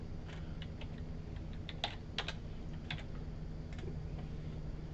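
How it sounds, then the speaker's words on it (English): Computer keyboard typing in short bursts of clicks over a steady background hum, moderately close, with no talking. "So let's go ahead and type this in here."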